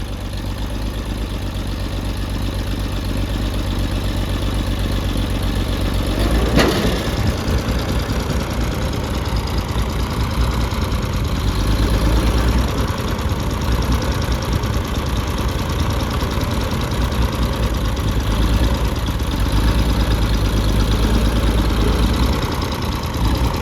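An old Oliver 70 tractor engine idles rough and misfiring on a few cylinders, a loud, close, uneven knocking chug that runs without pause and includes a brief sharp clank early on.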